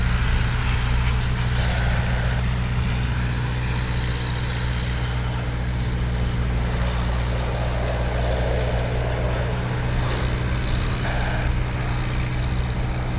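Old de Havilland Chipmunk propeller trainer aircraft rev their piston engines at an RAF airfield, a steady loud drone with a strong low hum and shifting pitch, continuous and close without talking.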